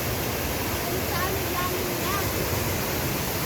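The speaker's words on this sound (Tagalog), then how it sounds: "pangalawang falls na to" A steady, loud roar of a waterfall at Mount Maarat, San Mateo, Rizal rushes on without pause, filling the air with constant broadband noise.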